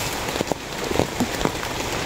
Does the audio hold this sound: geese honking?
no